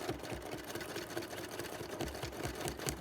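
A sewing machine stitching free motion embroidery on soluble fabric hums along steadily, its needle rattling in a quick, even rhythm, close and unbroken.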